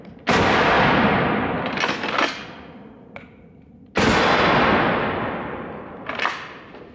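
Two loud shotgun blasts firing number 4 buckshot at a target outdoors, each a sharp crack with a long decaying roar, spaced about four seconds apart, with small clanks between.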